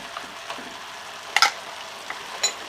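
Beef stew with beer simmering in a pot as a spoonful of tomato paste is added, a soft steady sizzle with a few light spoon scrapes and clinks against the pot.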